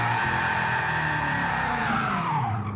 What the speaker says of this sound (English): And as always, the celebratory burnout.